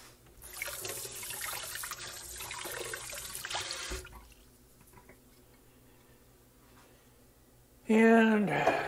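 Running kitchen tap with items being washed underneath, a broad steady rush of water for about four seconds, then a quieter stretch and a sudden louder clatter of dishes or pots near the end.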